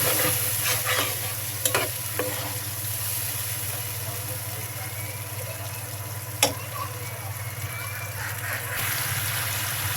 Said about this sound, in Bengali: মশলাগুলো একটু বারবার কষিয়ে নেব